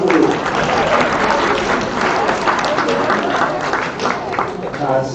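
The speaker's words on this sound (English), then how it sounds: "big round of applause for the senior board" A banquet crowd gives the senior board a big round of applause, sustained clapping mixed with cheering and chatter, loud and close for several seconds.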